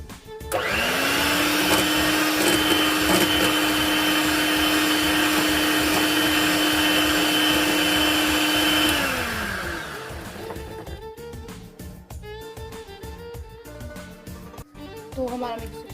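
An electric mixer whirs loudly and steadily, beating sugar and butter into a creamy batter for homemade coconut cookies, then stops after about nine seconds, leaving quieter kitchen clatter.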